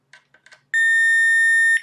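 A few faint clicks and taps, then a single loud, steady electronic beep held for about a second, a multimeter continuity check between ground points on a GTX 580 DirectCU II graphics card.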